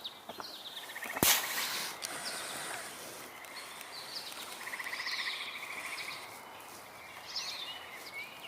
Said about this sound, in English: You can hear there are frogs.